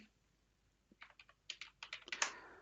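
A quiet burst of typing on a computer keyboard, around a dozen quick, close keystrokes clustered over about two seconds, with Notepad being typed into a search box.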